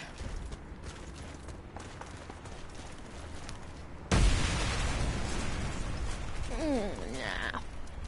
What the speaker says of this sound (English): The enemy detonated the bomb